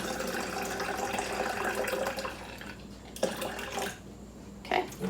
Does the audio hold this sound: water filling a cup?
yes